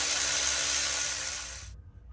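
Power tool whirring steadily while removing transmission pan bolts on a BF XR6 with a ZF 6-speed gearbox, loud and close for under two seconds, then cutting off abruptly.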